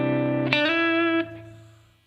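Electric guitar played through a pedalboard with reverb and compressor engaged, a sustained bright chord struck again midway, ringing with rich overtones before fading into a reverberant tail.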